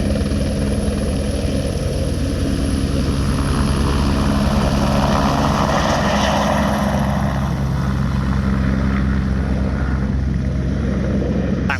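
A helicopter makes a steady, loud, close rotor and engine roar that stays constant the whole time, with no voices over it.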